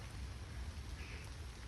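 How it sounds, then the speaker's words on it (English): Steady rain falling on trees along a countryside hiking trail, a dense, even hiss of drops without a break and no voices over it. "it's been raining non-stop since I left my house and I'm pretty wet"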